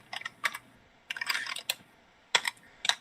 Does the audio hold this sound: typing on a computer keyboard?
yes